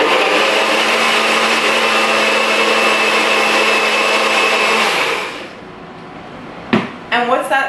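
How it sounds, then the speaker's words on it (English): A loud blender whirs steadily for about five seconds blending overnight oats with banana, then winds down, followed by a sharp clack and a few brief knocks. "what I'm going to do is I'm going to put it in the blender"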